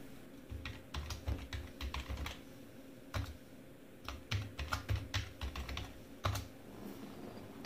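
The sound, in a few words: typing a new password on a computer keyboard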